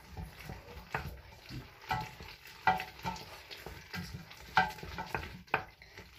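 Cooked noodles being stirred together with melted Velveeta cheese, producing repeated soft wet scraping and squelching strokes in a steady rhythm, close up with no speech.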